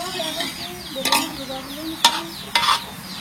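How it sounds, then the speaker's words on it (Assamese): Potatoes sizzle in a village kitchen pan while a spatula stirs them, with three sharp scraping clanks standing out over the steady frying hiss. "এইফালে আলু ভাজি আছো"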